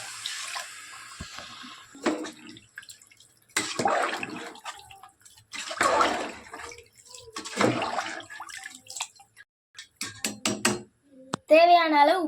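Water pours from a tap into a pressure cooker for prawn biryani, measured at twice the rice. The splashing comes in several bursts between pauses, close by, with a brief clatter near the end.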